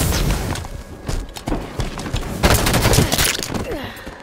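Battle rifle fire from a Halo 5 match crackles in loud, rapid bursts of shots, mixed with booms and scattered game noise.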